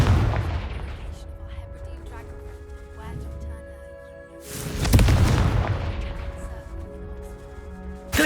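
A Confringo fire spell in Hogwarts Legacy goes off in a sharp, loud blast about midway, with a booming tail and other game effects humming around it, while a voice talks over the scene.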